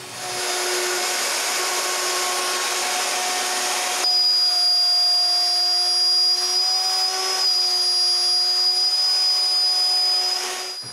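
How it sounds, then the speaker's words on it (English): A power tool with a 7mm bit cuts holes through two clamped parts, giving a steady, high whining drone with tonal overtones that shifts pitch partway through as the bit loads up, close and continuous. "With both sides clamped together and a 7mm bit, I cut the bottom holes."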